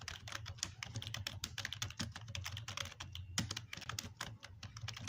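Fast, continuous tapping on a phone keyboard: rapid, irregular clicks in a busy stream, close and fairly crisp, with no voices.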